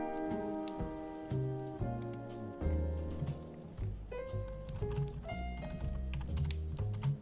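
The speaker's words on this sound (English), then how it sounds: "Typing left-handed is awkward." A computer keyboard is typed on left-handed in quick, irregular clicks over a steady background of soft tones, quiet and close.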